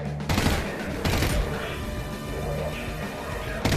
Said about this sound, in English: I'm glad I got this burst shot